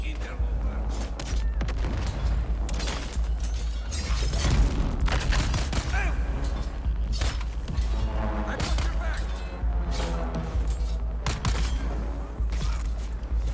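Missiles and weapons fire in a video game set at a desert station, with dense overlapping booms, bursts and mechanical clatter running loudly and continuously throughout.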